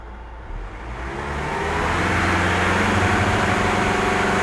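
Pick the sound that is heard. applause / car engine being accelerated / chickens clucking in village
car engine being accelerated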